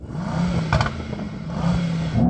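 Performance car engine revving during a stationary sound check before a drag race, two short blips rising and falling with a brief mechanical clatter between them, loud and close.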